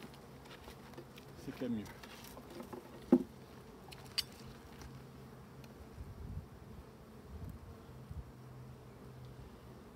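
Bees shaken off a hive frame during a colony inspection give a busy buzzing hum with patters and knocks, under brief speech.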